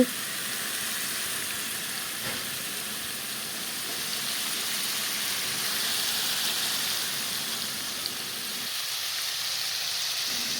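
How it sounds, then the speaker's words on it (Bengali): Boiled jackfruit pieces frying in a pan make a soft, even hiss of sizzling oil that holds steady and fairly quiet throughout, with no voices. "এখন ভেজে নেব কিছু সময় কাঁঠালগুলো ভেজে নিই"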